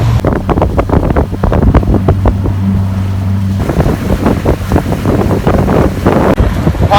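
A brand new bass boat's motor runs on open water, a low steady drone buried under heavy wind buffeting and splashing.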